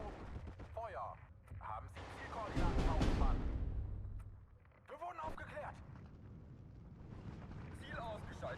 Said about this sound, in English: Especially if I mortar wherever they are.